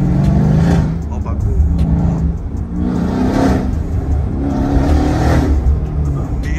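A Brabus 850 hp biturbo car rumbles and revs with a deep, steady engine drone while people talk excitedly close by.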